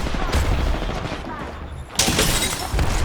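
Gunfire in the Apex Legends battle royale game: dense bursts of rapid shots crackle through the whole stretch, growing louder and sharper in the second half, with a player's voice talking over the firefight.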